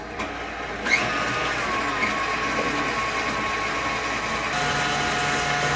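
A stand mixer with a paddle attachment beats gluten-free cookie batter for yo yo's (besos), giving a steady, close motor whir with a faint humming tone that runs unbroken for several seconds, with no voices.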